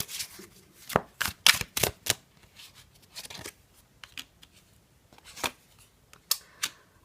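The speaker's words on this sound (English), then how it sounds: "And shuffle on camera for a little bit." Crisp bursts of tarot cards riffling and snapping together, several quick shuffles in a row with short pauses between, close and fairly loud.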